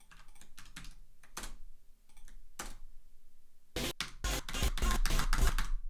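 Fast, uneven typing on a computer keyboard, sparse clicks at first and then a dense, loud burst of keystrokes, close up with no voices.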